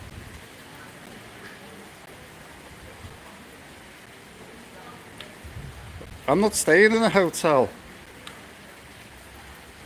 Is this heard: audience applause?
no